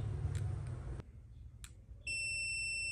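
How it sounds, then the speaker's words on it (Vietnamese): An electronic multimeter pen testing a spark plug gives off a steady, loud high-pitched beep that starts abruptly partway through and holds to the end, after some handling noise and a brief click. "nó sẽ kêu tít tít cho anh em phân biệt luôn."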